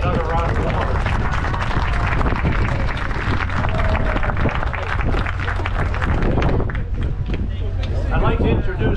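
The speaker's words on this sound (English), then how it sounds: "Let's give America's sweethearts another round of applause." Audience applause at a closing ceremony aboard the Liberty ship SS John Brown: a dense, steady wash of many hands clapping, loud and continuous, blended with crowd noise and wind across the deck.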